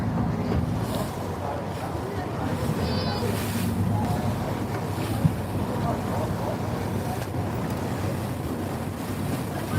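Steady engine rumble of a large boat on the sea at Venice, with water sloshing and wind buffeting the microphone, continuous throughout, with faint talk in the background.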